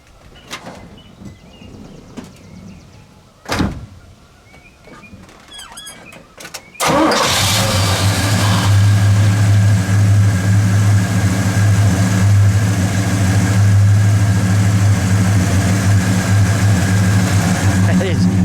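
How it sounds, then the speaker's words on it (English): A 1969 Pontiac GTO 400 Ram Air III V8 engine cranks and roars to life, then settles into a loud, steady, deep idle that rumbles on without a break. "Let's fire it up, shall we? And we'll listen to it idle."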